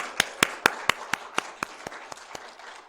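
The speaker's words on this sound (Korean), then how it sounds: "박수 한번 해주세요." A small church congregation claps in slow, evenly spaced single claps, about a dozen sharp hits that gradually soften, with no talking over them.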